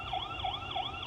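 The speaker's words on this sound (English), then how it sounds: "Also has a built-in siren." A built-in siren on an ieGeek ZS-GX4S solar wireless security camera wails in rapid repeating up-and-down sweeps, about three cycles in one second, steady and fairly loud with no talking.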